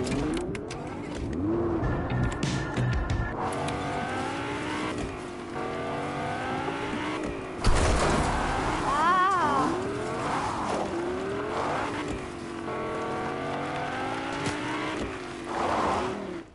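A Lamborghini drives in a video game with a loud, close engine whose pitch climbs and falls through repeated gear shifts and revs, plus occasional tire squeal, and no voices.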